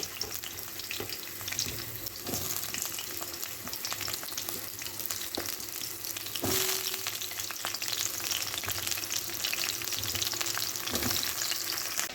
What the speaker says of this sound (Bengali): কড়ায় সর্ষের তেল দিয়ে এবার সমস্ত সবজি একটা একটা করে ভেজে নেব